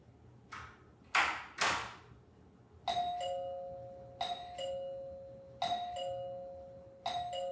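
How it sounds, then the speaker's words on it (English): Hotel room doorbell at a Universal Orlando resort chiming in repeated two-tone electronic ding-dong bursts, near and clear, after a few soft knocks or thumps at the start. "It's got a doorbell."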